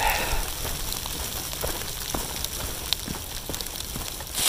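Heavy rain pours on an exposed Appalachian Trail mountain ridge, a steady dense hiss of drops drumming on surfaces with scattered sharper patters, constant and close throughout.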